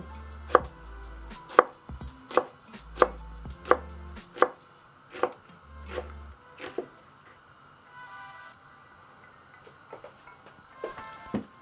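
A knife chops a hot chili pepper on a cutting board for a Carpathian roast, with about ten sharp, evenly spaced strikes followed by a few lighter taps; close and clear, with no talking.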